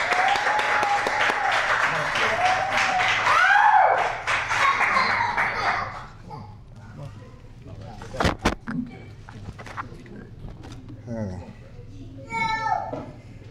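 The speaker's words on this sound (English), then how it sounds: "let's give Leon Ville a great round of applause there." An audience at the 2000 Bayview poetry reading at the Bayview Branch Library breaks into loud applause for about six seconds. The clapping then fades, and scattered voices, including a child's, continue afterward.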